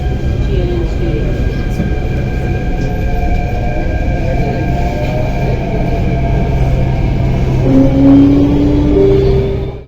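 A Delhi Metro train runs at speed with a loud, continuous rumble and hum heard from inside the carriage, and brief squealing tones from the wheels or brakes rise toward the end.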